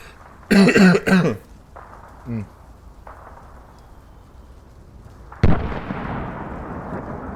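A burst of harsh coughing, then a short throat clear, and later a sharp loud hack followed by fading breathy noise.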